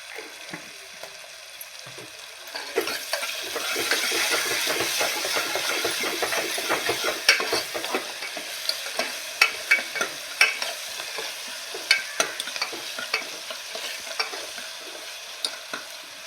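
Onions fry in oil with salt for a beef gravy. The sizzle holds steady throughout, broken by repeated sharp clicks and scrapes as a spoon stirs them in the pan.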